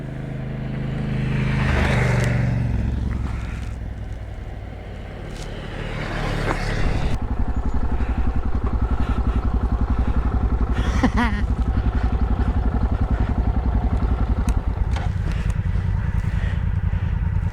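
A motorcycle engine revs and drones nearby, rising and falling before settling into a steady, loud running roar with occasional clatter and knocks over the ride.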